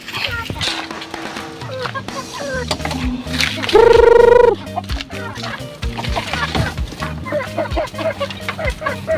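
Pet chickens in a backyard coop at feeding time cluck and call repeatedly in an irregular, busy rhythm, with one loud, sustained squawk in the middle, all heard close up.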